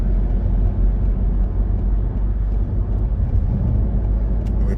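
A car builds speed on a motorway, heard from inside as a steady low rumble of engine and road noise that swells slightly as it goes.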